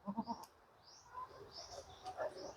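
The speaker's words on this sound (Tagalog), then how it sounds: "Dito po ang mga kambing natin." Goats on a farm in overcast weather bleat faintly in the distance, several soft calls scattered among outdoor ambience, with a few brief nearer sounds at the start and no talking.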